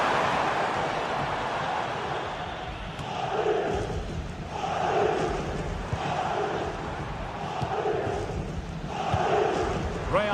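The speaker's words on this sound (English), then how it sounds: "Well, just listen to the crowd." A large stadium crowd in a football video game roars and swells in rhythmic waves of chanting, a steady broad wash of noise under a commentator's voice.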